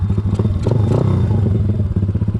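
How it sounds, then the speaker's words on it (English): A Honda ATC 70 three-wheeler with a freshly rebuilt, still breaking-in engine fires up and runs close by, a loud chugging small-engine putter with a short rise in revs partway through. "we'll go ahead and start it up and take it on a little rip"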